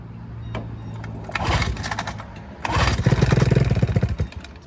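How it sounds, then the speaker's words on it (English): Johnson outboard motor, dosed with starting fluid in the carburetor with the airbox removed, cranks and catches, firing in a first brief burst then popping into a loud, rapid, uneven run close by. "I sprayed some starting fluid down into the carburetor and it popped right over."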